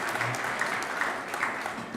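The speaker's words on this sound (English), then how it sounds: "So let's give a round of applause and welcome for our family and friends that are able to be in attendance today." Audience at a high school athletic signing day event gives sustained applause, an even roar of many hands clapping for the whole stretch.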